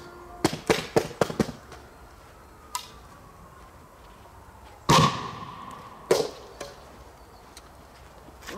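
German Titanschlagblau firecracker going off outdoors: a quick burst of sharp cracks, one louder blast near the middle and another bang later, each standing alone against quiet background with no talking.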